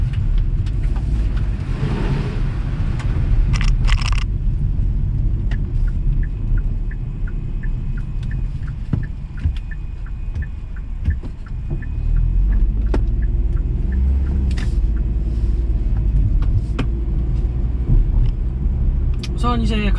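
Kia Morning 1.0 gasoline car driving at night, a steady low engine and road rumble inside the cabin, continuous under a person talking.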